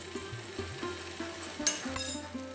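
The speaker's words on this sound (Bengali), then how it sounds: "খুব ভালো করে মিশিয়ে নেব।" A spoon scrapes and stirs banana flower curry with ghee, green chillies and garam masala in a pan, giving soft, steady scraping with a light sizzle and a couple of brief metallic clinks.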